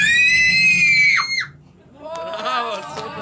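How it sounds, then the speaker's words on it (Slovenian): A group of people screams together on cue, one loud sustained high-pitched shriek that cuts off, then after a brief pause a burst of voices and laughter, close and very loud. "Ko jaz rečem 3, 4, boste zakričali, okej?"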